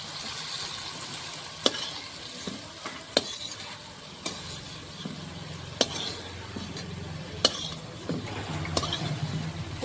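Pointed gourd (potol) frying in a pan gives a steady low sizzle, with sharp clinks and scrapes of a utensil stirring it at irregular intervals, close by and without talk.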